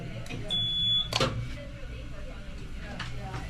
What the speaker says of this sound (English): When you hear the beep and you see that dotted line, that's after it's processed.